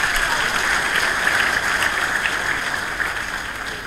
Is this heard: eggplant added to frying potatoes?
no